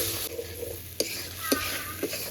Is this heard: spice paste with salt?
yes